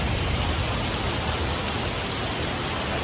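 Heavy rain pours steadily in Singapore's Little India, a dense, even hiss of drops on surfaces at moderate level with no distinct thunderclap standing out and no one speaking.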